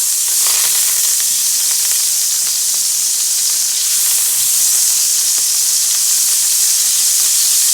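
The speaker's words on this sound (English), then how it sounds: "I'm gonna wait till the butter is melted." Butter melts in a hot pan before venison steak goes in, giving a steady, fairly loud hiss and crackle of sizzling fat that continues evenly with no talking.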